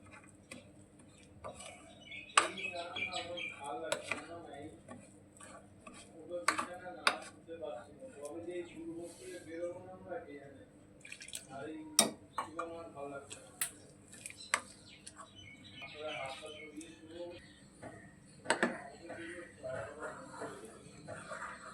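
Water stirred a little at a time into instant dosa batter in a bowl, with soft scraping and light clinks against the bowl scattered throughout, under a person talking.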